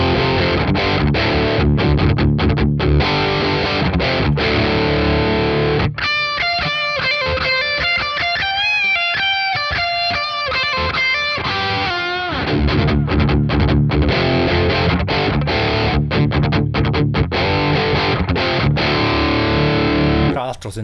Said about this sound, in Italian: sentite che il cambio di livello non va a tagliare le code del delay e del riverbero della parte lead